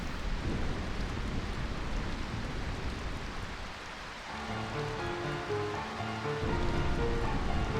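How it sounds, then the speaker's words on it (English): Steady rain falls in Final Fantasy IX, a constant hiss with soft rumbling, joined partway through by gentle melodic music in the background, no voices. "I find this rain quite pleasant. It feels as though the raindrops are blessings"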